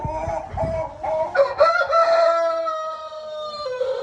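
Hens clucking and a rooster crowing loudly in a shared winter henhouse in the UK; scattered close clucks lead into a long, drawn-out crow that trails off, with more clucking at the end.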